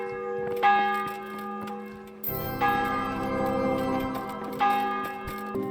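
A church bell tolls in the medieval world of Kingdom Come: Deliverance, three rich, ringing strikes about two seconds apart, each with a long sustained hum that carries under a steady background drone.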